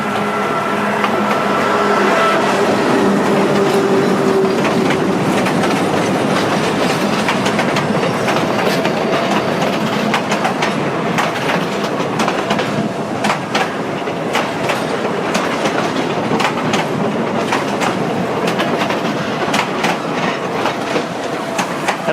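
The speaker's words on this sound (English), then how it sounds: "there's the fresh sounds of the Peruvian rail system" A train on the Peruvian rail line near Machu Picchu rolls past close by, a loud sustained rumble with rhythmic clickety-clack of wheels over rail joints and occasional metallic squeals.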